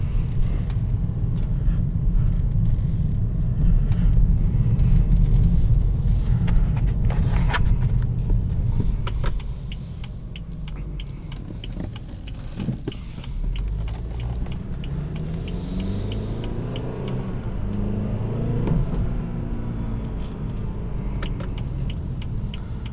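Cabin of a 2014 BMW 320xi on the move: a low engine and road rumble fills the car, stronger early on, then eases into a softer, steady hum as driving continues.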